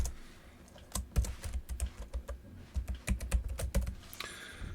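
Irregular bursts of clicking keystrokes on a computer keyboard as a new username is entered for a member record, close and clear with short pauses and no talking.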